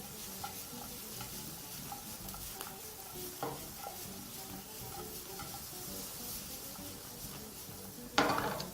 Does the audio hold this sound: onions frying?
yes